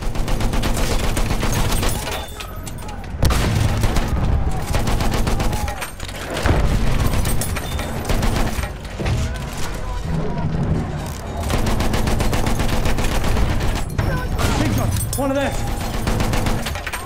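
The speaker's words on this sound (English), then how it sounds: "Enemy machine gun sighted" Enemy machine gun fire in Battlefield 1, sustained and loud, with long rattling bursts and booms of battle continuing almost throughout, with voices talking beneath the din.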